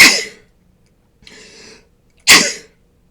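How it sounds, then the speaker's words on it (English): A person sneezes twice, two sharp loud bursts about two seconds apart, with a short breathy sound between them, in an otherwise quiet room. "I'm going to sneeze."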